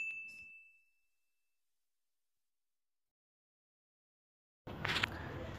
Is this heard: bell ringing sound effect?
yes